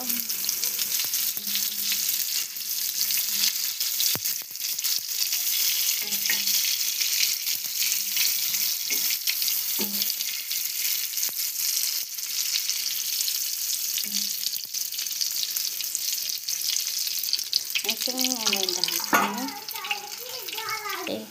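Fish and tomatoes frying together in a pan, the fish already charred black, making a loud, continuous close-up sizzle with occasional stirring knocks, and voices talking over it near the end.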